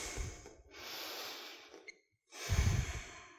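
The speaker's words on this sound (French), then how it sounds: "Grande respiration." Deep breaths during a yoga session: a long inhale, a pause, then a forceful exhale through the nose, close and clear in a quiet studio.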